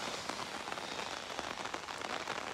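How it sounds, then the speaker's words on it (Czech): Steady rain falling on a roadside during an overnight hike from Prague to Sněžka, Czech Republic, a dense continuous patter with scattered sharper drops, fairly close and even throughout. "ale prostě prší"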